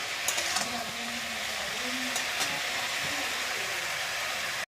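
Potato and cauliflower fry in a pan with a continuous soft hiss and sizzle, close and fairly quiet, running steadily before cutting off abruptly.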